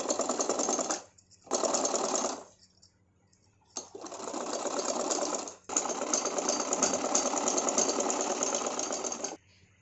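A sewing machine runs a loose basting stitch through folded fabric in bursts of steady mechanical whirring, four runs of differing length with short pauses between, close and fairly loud.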